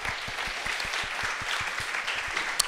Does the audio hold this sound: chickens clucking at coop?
no